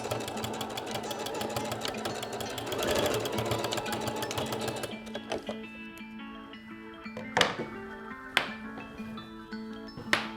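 A sewing machine runs in a steady, rapid rhythm while stitching the folded-over bra straps of a Josie bra. The run stops about halfway through, leaving a few sharp clicks and knocks.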